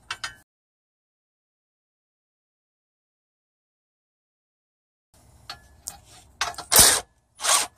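Ratchet tightening a rear strut bolt on an Acura/Honda, a few close, quiet clicking bursts near the end after a long silence.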